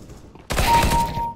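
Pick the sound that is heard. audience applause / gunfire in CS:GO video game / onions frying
gunfire in CS:GO video game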